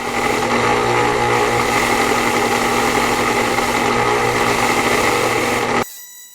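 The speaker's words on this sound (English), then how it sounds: "And I still have to get this screw drilled out of here." A power drill bores out a stuck screw on a Herbrand ratchet, a steady loud motor whine and buzzing grind running continuously before cutting off abruptly near the end.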